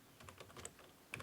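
Keystrokes on a computer keyboard, a short run of soft, faint taps followed by a quick louder cluster near the end, with no one talking.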